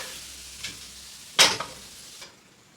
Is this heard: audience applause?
no